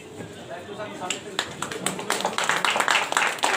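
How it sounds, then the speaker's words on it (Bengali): A crowd's applause swells from scattered claps into denser clapping, with voices speaking over it. "আপনারা করতালি দিচ্ছেন"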